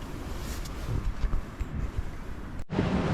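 Strong wind gusts buffet the microphone at a cold island backpacking campsite, a dense low roar with rumbling bursts, then a brief cut before the wind resumes.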